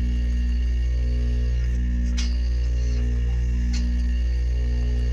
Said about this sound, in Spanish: Voy a hacer vacío en el sistema de aire acondicionado cuando voy a cargar el gas.